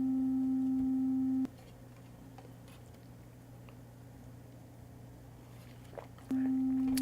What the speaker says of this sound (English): Let's just plug in the sine wave to the input of our amplifier.